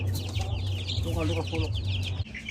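A Brahma chicken clucks in short bursts close by, while a person talks over it and a steady low hum runs underneath.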